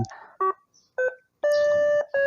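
An electronic device gives a series of short tonal beeps followed by a longer sustained beep, clear and close with silence in between.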